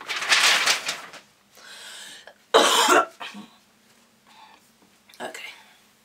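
A sharp cough bursts out once amid breathy, muttered speech, close and loud against otherwise quiet pauses.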